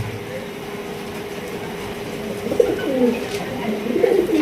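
Soft low cooing of Raj Golla pigeons on a pigeon farm, a few rolling coos toward the end over a steady background hum.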